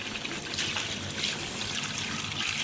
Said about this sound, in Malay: Okey, sekarang kita masukkan air.